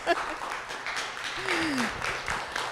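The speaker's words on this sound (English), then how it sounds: "There's clapping in the room" Steady applause from a room audience, moderate and continuous, with a brief voice over it.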